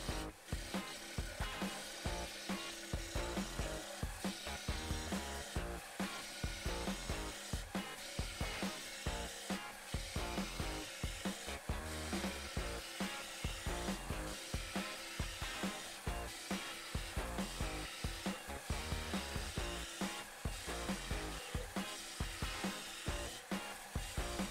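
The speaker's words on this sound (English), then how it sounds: "I'm going to start with my 3/4 inch bowl gouge." A 3/4 inch bowl gouge cuts a wooden vessel spinning on a lathe, making a continuous rough scraping drone with a rapid rhythmic chatter, steady and close, with no talk.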